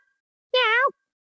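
A single short, nasal meow made by a human voice imitating a cat, close and clear against silence.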